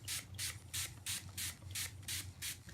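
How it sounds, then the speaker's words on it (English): Eight quick hissing bursts of a fine rose water face mist spray, evenly spaced and close up, with a faint low hum underneath. "Next, I'm going to set my face with my Mario Badescu Rose Water Spray."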